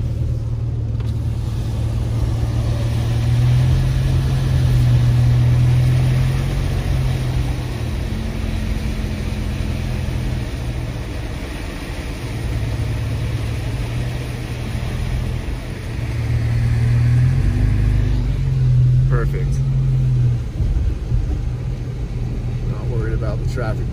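Road traffic rumbles past behind a vehicle driving in a sleety rain-and-snow mix near Big Bear Lake, with a low engine drone that swells and fades in waves and a couple of brief sharper sounds near the end.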